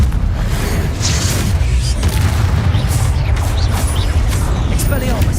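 Confringo fire spell blasting in Hogwarts Legacy, a loud continuous rumbling barrage of deep booms and crackling impacts throughout, with dense low-end energy and scattered sharper bursts.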